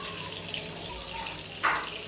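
Water runs and splashes steadily into a cooking pot of rice for chicken biryani, with a brief louder gush near the end; no voices.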